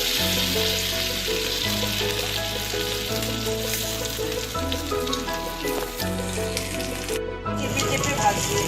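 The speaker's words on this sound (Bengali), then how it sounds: "একটু চেপে চেপে ভাজবেন।" Stuffed ash gourd slices fry in oil while being pressed down, giving a close, continuous sizzle that swells now and then, with steady background music underneath.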